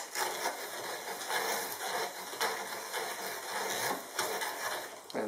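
Antique 1850s English plated bit brace with a center bit boring into cherry wood: a soft, steady rasping and scraping with a gentle rhythmic rise and fall as the bit turns and cuts shavings, fairly quiet and close.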